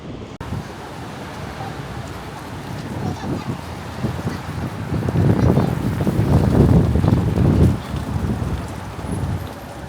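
Strong gusts of wind buffet the microphone in a quiet park near Sydney's beaches, a rough roaring rush that swells louder and heavier through the middle before easing, with no voices.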